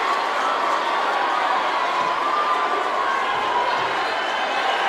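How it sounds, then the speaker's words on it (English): A packed high school basketball crowd at a Chapmanville Tigers versus Logan Wildcats game roars in steady, loud cheering as a Logan fan is ejected, a dense wash of voices with no letup. "Tiger fans cheering as we see a Logan fan ejected from the crowd"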